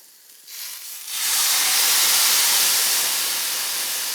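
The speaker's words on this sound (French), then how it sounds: "Les grains de riz sont bien nacrés, on va commencer à apporter du bouillon." Broth poured onto pearly toasted risotto rice for a chicken and chorizo risotto, rising from a faint start into a loud, sustained, close hiss of steam that holds steady to the end, with no speech.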